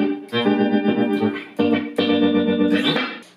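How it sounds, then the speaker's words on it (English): Electric guitar played through a tremolo effect synced to the Ableton session tempo, its sustained chords pulsing rhythmically in volume, loud and close with no talk. "It's like a tremolo effect that is in time with the BPM of the Ableton"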